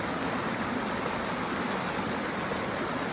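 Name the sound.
water running off the hill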